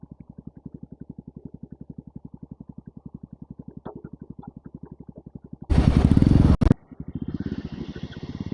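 A trail motorcycle thumps at idle in a rapid, even beat, then bursts into a loud, rasping rev, cuts off briefly and resumes a rougher, higher-pitched run, close by.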